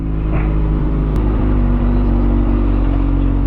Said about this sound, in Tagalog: Pinapainit lang natin yung makina ng ating motor bago tayo malis.